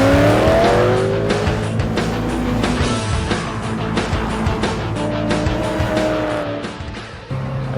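A 2006 Mustang fitted with a Centerforce DYAD dual-disc clutch drives hard, its engine droning loudly with rising and falling revs through gear changes, recorded close and steady throughout.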